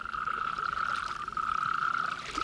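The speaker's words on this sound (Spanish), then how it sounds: "En torno a las nuevas lagunas se reúnen multitud de sapos de la comarca." Many toads gather at new breeding ponds, their continuous, even chorus of high trills holding steady throughout, dense and fairly close, with faint water sounds beneath and no voices.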